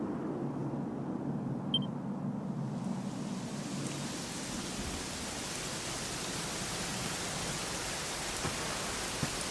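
Steady, even rain hiss in the video game Dragon Quest XI fills the scene, with a soft low rumble early on and a faint tick near the start, no voices.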